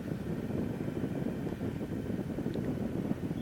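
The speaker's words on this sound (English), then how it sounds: "It's windy, isn't it?" Steady, loud wind buffeting while riding a motorcycle with a pillion over the Bealach na Ba mountain pass into Applecross, a constant broadband roar with no talk over it.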